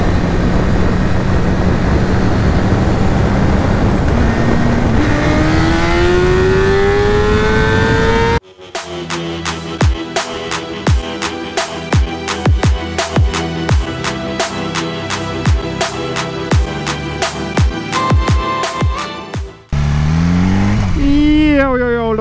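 BMW S1000 RR sport motorcycle accelerating hard on an unrestricted stretch of road, its engine rising in pitch through repeated upshifts with brief gaps between gears, loud and close, wind rushing around it.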